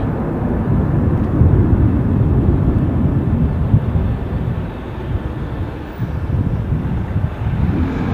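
A 26-year-old airliner rumbles steadily at Dublin airport, a broad, fairly loud low roar of engines with outdoor wind noise, swelling and easing slightly over about eight seconds, with no voices.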